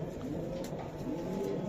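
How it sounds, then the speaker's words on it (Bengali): A racer pigeon gives low, soft, rolling coos close by, in a steady murmur with no talking. "এই যে কবুতরটা আমি দেখাই দিলাম"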